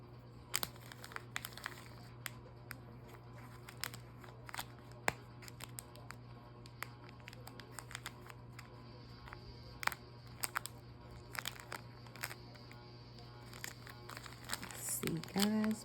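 Cash bills being handled and slipped into a paper envelope, with steady soft crinkling and paper rustles close to the microphone, plus a louder rustle at the end.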